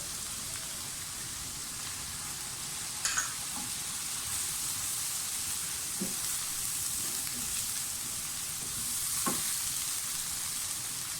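A masala of cumin, ground coriander and turmeric frying in a pan for Lahori murgh chanay gives a low, even sizzle with a few faint scrapes of a spoon. It is fairly quiet and no one speaks.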